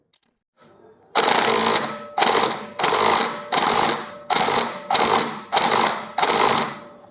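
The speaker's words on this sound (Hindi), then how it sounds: "मैं इसको इम्पैक्ट रेंज से एक टॉर्क पे टाइट कर लूँगा, रफली टॉर्क पे।" Impact wrench tightening a scooter bolt, a loud close burst followed by eight rapid hammering pulses of about half a second each with short gaps between them.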